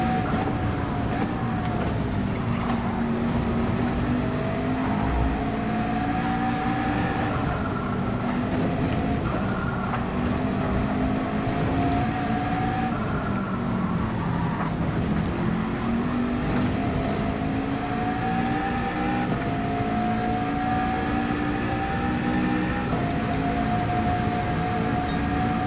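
A GT3 race car engine in the Gran Turismo 7 video game revs continuously on track, its loud pitch climbing and dropping with repeated gear shifts and braking over the full stretch.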